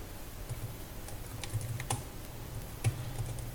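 Light, quiet keystrokes on a computer keyboard at a terminal, a few soft irregular clicks with one sharper tap, close by in a still room.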